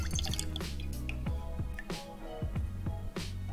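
Amaro Montenegro liqueur dribbles from a bar spoon into a cocktail glass, a run of soft, close liquid drips over a low steady background, with no talking.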